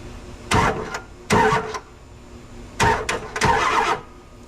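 The starter on a junkyard Ford 7.3 engine cranks it over in four short bursts, each a loud whirring grind lasting about half a second, with quiet pauses between them and no speech.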